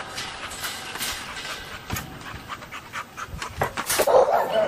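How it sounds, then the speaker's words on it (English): Bull and panther game-bred stud dog panting rapidly and close, quick rhythmic breaths with a few thumps and rustles, growing louder near the end, no speech. "He's my main stud dog and basically the dog I'm basing everything on."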